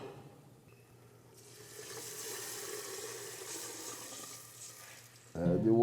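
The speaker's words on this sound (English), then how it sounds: "Add your water to it." Water pours into a pan of sizzling garlic, starting as a quiet fry, then rising into a steady hissing sizzle, with a sharper burst of bubbling right at the end.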